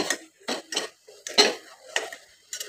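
A spoon stirring and scraping whole cumin and ground spices as they fry in a small pressure cooker, giving quiet, uneven metallic clinks and scrapes in short bursts with brief pauses between them.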